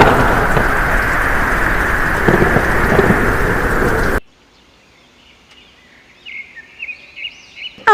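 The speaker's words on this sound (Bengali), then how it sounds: "টানা 2 দিন যাবৎ এক লাগারে বৃষ্টি পড়েই যাচ্ছে।" Heavy, continuous cartoon rain pours loudly and steadily for about four seconds, then cuts abruptly to near silence with faint, high whistling chirps.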